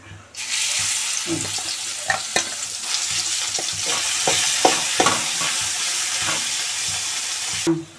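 Ridge gourd peel chutney tossed into a hot oil tempering with curry leaves, giving a loud continuous sizzle with scattered clicks of a spoon stirring in the pan, close and steady for several seconds.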